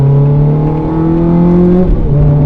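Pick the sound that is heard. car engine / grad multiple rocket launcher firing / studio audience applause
car engine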